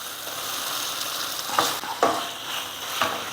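Chopped carrots go into a pan of frying, softened tomatoes for rava kichadi and get stirred in, a soft sizzle under several scraping spoon strokes, close and moderately loud.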